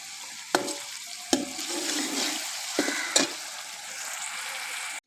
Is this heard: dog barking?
no